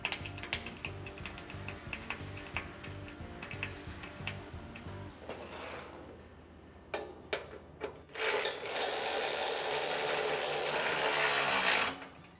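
Hand ratchet with a 17mm socket tightening bolts on a rock slider mounting bracket of a 2024+ Lexus GX 550, rapid clicking pawl strokes, then a longer loud whirring spin near the end.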